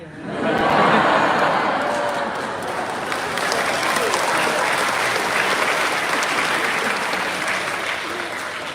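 An audience at a seminar session breaks into sustained applause, dense clapping that swells in the first second and holds steady and loud across the whole stretch, with a faint murmur of crowd voices beneath.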